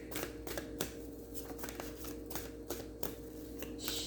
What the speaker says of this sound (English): Just doing the shuffle real quick.